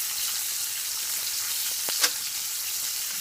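Chocolate chip pecan pancakes fry in a hot pan with a steady, close sizzle, broken near the end by a brief utensil scrape or tap.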